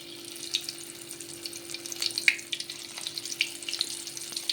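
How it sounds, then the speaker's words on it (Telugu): Bitter gourd pieces drop into hot oil and fry with a soft, crackling sizzle and scattered pops, close by over a low steady hum. "ఆయిల్ వేడైందండి, ఒక్కొక్క ముక్క వేసేసుకుందాం ఇందులో."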